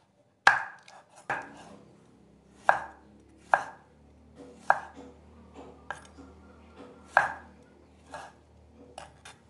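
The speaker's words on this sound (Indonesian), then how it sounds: "Aku potong-potong daun bawangnya." Spring onions chopped with a knife on a cutting board, about eight sharp, well-spaced knocks with quieter taps between, close and clear with no talking.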